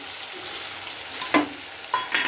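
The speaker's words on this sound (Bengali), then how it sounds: "এবার যে কালো জিরে বাটা করেছিলাম সে বাটাটা দিয়ে দেবো।" Black cumin paste being stirred into salted tomatoes in a pan, a soft scraping stir over steady sizzling with a couple of sharper clinks of the spoon near the end.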